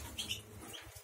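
Pet birds chirping in a cage at home, a few faint high tweets over a dense background hiss, brief and fairly quiet with no talk.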